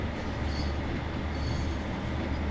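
A Class 150 diesel train in Train Sim World 2 climbs a steep gradient on the West Cornwall line, giving a steady, loud engine drone and rolling rumble with no breaks.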